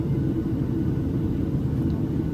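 Steady, loud low-frequency roar of a United Boeing 737 cabin in flight between Denver and Colorado Springs, a constant engine and airflow drone with no breaks or speech.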